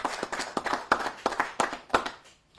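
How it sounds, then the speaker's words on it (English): Scattered, uneven clapping from a small group honoring the Parks Department at an outdoor beer garden announcement in Milwaukee, a few seconds of close handclaps that taper off. "I want to give them a round of applause to our Parks Department."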